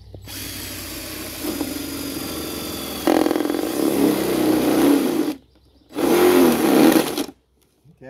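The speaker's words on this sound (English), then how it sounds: "I'm going to drill a couple of holes in the side of it." A power drill bores holes through the side of a plastic container, whirring loudly in two close bursts separated by a short pause, with its pitch rising as the bit bites into the material.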